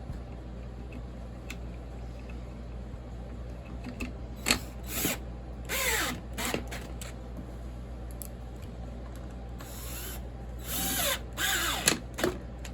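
Power drill driving longer screws into a clone 880 kit chainsaw, several short whirring bursts with pauses between, fairly close and moderate in level, no talking.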